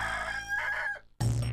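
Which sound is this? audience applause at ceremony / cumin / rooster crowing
rooster crowing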